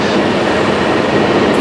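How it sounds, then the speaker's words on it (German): A train passes at a station platform, making a steady, loud rumble of rolling rail noise with no clear breaks across the short stretch. "Das ist ein Zug, aber leider nicht unserer."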